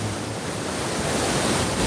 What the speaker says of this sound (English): That wind's getting a bit strong.